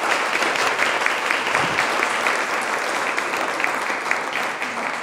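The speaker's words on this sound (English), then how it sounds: "Please give them a round of applause." Sustained audience applause fills a paralegal day event hall, dense steady clapping from a sizable crowd, loud and continuous for several seconds.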